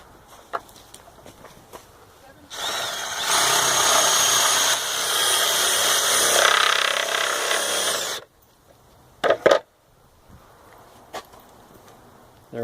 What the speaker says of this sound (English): So we're going to drill this out and hook up a male end of a garden hose to this.